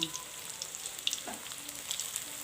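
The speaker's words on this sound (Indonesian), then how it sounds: "Goreng hingga berwarna kuning keemasan atau hingga matang" Suring-leaf and tofu balls frying in hot oil, a steady close sizzle and crackle with small popping bursts, no talking.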